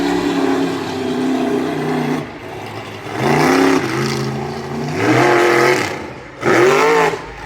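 Monster truck engine revving hard at a live show in Swedesboro, NJ, loud and close, climbing in pitch in three surges separated by brief drops in throttle, with no talk over it.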